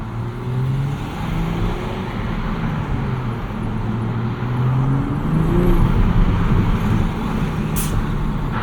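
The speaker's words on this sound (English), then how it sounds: "You more so have turbo spool noise." Steady road and engine noise from inside a moving 2024 Toyota Supra MK5 with 6-speed manual, with a rising whine of turbo spool riding over the drone.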